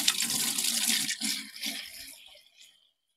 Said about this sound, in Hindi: तो चलो इसमें पानी डालते हैं।